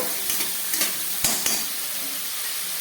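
Spice paste sizzles in mustard oil for a catla fish dish, a steady close frying hiss broken by a few sharp stirring scrapes and taps from a utensil, with no voices.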